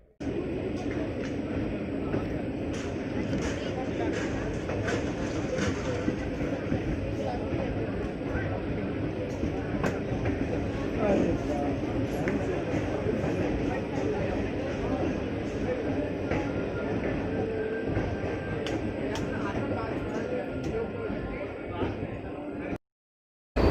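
The Dehradun Janshatabdi Express pulls out of a station, heard from inside the coach as a steady, continuous rumble and rattle of the carriage rolling over the rails throughout.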